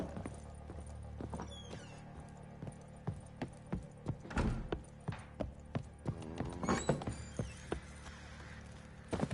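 Hooves clip-clop in uneven bursts of sharp knocks in The Witcher 3 video game, close and fairly loud, over a steady low hum of background ambience.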